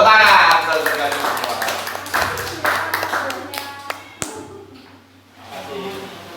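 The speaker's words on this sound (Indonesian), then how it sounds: "Nah, tepuk tangan" A church congregation at a Sunday service claps hands together, loud at first then thinning into scattered claps and taps that fade out, with a voice speaking alongside.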